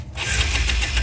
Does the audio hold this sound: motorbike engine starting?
yes